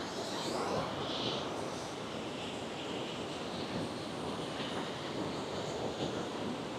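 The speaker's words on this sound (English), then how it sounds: "So here's the waterfalls from up here, the best I can show it." Mena Creek waterfall near Innisfail, Australia, rushes in a steady, broad roar, heard from up above the falls without a break.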